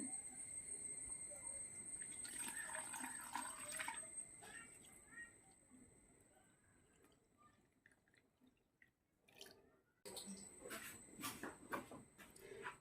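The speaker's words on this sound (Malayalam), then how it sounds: "ഇനി അതിനകത്തോട്ട് നമുക്ക് തേങ്ങാപ്പാൽ ഒഴിക്കാം." Coconut milk is poured into a pan for making halwa, a faint liquid trickle and dripping with some kitchen clatter. It goes quiet briefly in the middle, then the pouring resumes.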